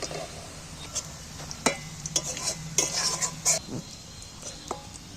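Onions fried in hot oil and lifted out of the pan, with a low sizzle under scattered metallic scrapes and clinks of a spoon or spatula against the pan, close by.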